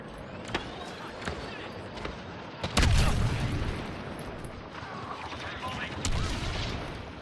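Booming cannon fire and blasts from the Star Wars Battlefront 2 beta, sharp shots scattered through a busy game soundscape, with one loud burst near the middle and others fainter, while people talk over it.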